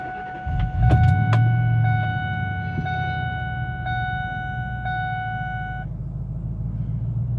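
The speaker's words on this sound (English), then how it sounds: "I have the key right here. Let's go ahead and crank it up." A supercharged 2003 Ford F-150 Harley-Davidson Edition starts up and settles into a steady, fairly loud idle. A brief starter crank comes first, and a sustained dashboard chime tone runs over the engine.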